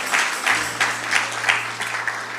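A church congregation applauds in a steady, moderately loud round of clapping with gentle rhythmic swells, accompanied by a sustained low organ-like tone.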